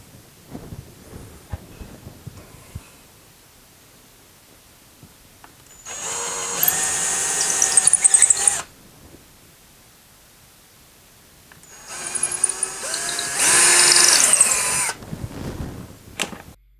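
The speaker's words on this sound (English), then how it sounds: "drill the initial holes into the wall" A power drill bores holes into a wall to hang a large sword, heard as two loud, high-pitched bursts of drilling, each lasting about three seconds, separated by quiet pauses with no talking.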